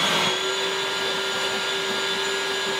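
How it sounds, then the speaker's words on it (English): A Ryobi 18V battery wet/dry shop vac runs continuously up close while vacuuming, a steady whining whoosh with a constant tonal hum and no talking. "So we're gonna try this tool to see if it picks up the rest of this."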